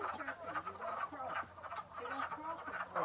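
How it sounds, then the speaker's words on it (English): Frogs croak steadily in a pond, their repeated calls overlapping in a dense, continuous chorus heard at moderate level without any talk. "I think the croaking is a sign."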